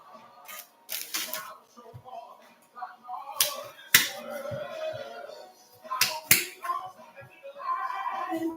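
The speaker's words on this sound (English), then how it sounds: "we're going to take our lemon and get our lemon cut down." A knife slicing a lemon for a pear lemon chicken kale salad, heard as a series of sharp clicks and snaps under gospel choir music playing in the background.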